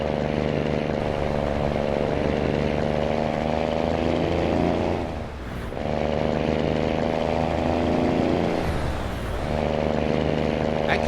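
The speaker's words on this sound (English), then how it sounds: "I can't get over the sound of this engine." A Kenworth T2000 truck engine in American Truck Simulator drones loud and steady with a rich, dense pitch, easing off briefly twice before pulling back up to a constant roar.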